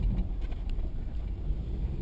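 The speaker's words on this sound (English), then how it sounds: "it is really windy today" Strong wind outdoors on a nature walk buffets the microphone as a steady low rumble with gusty fluctuations, loud and continuous throughout, with no talking.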